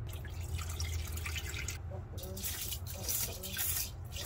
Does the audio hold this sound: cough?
no